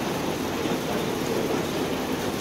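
Rain falling steadily at a guesthouse on Asu Island in West Nias, Indonesia, a dense, even hiss of drops that holds at one level throughout with no voices.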